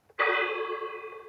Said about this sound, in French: il y a la cloche